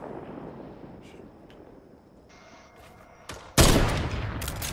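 A single sharp, loud gunshot from a sniper rifle in Fortnite bursts out near the end, following quieter game ambience and a few faint clicks.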